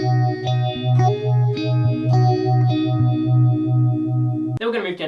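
Fingerpicked guitar part of a song, a steady pulsing bass note under ringing higher notes with a chorus-like wash, ending in a sudden bright strum.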